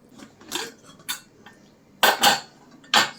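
A ladle mashes cooked kavuni rice in a pot, giving a few close metallic clinks and scrapes in short bursts.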